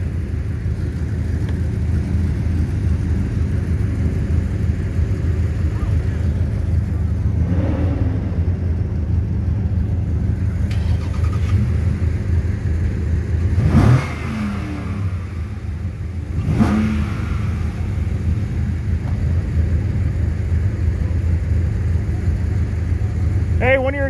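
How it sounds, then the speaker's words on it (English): A car idles at an evening car meet with a loose exhaust clamp, a steady low rumble broken by a few short revs, while people talk nearby. "Hey, one of your exhaust clamps are loose. I can hear it rattle."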